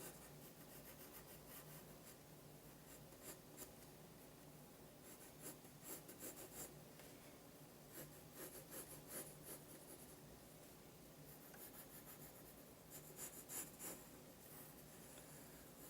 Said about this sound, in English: So let's start drawing this part of the armor.